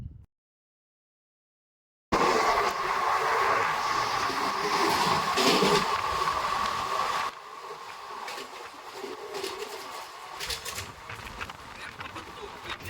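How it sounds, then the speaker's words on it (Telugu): Garudadri Express passenger train running on rails, a steady rumbling roar after a brief silent start, loud and close for several seconds before easing to a quieter rolling noise with faint clatter. "ఇప్పుడు వచ్చేసి మన ప్లాట్ఫామ్ నెంబర్ 1లో వచ్చేసి మన గరుడాద్రి ఎక్స్ప్రెస్ అయితే ఆగింది"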